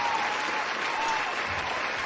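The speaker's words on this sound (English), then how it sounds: "Give us some claps" An audience claps steadily through the whole stretch, a dense and even wash of applause from a crowd at a live show, with a faint steady tone running beneath it.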